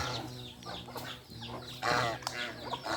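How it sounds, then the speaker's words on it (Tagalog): Chickens cluck and squawk close by in a run of short, uneven calls, some sharper and louder, with no talking. "Yan po ang ating manok."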